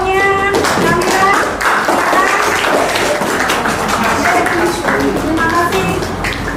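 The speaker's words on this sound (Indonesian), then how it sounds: "aplaus untuk kelompoknya" A classroom group gets applause after their presentation: a dense, steady patter of many hands clapping fills the room, with voices chattering and calling over it throughout.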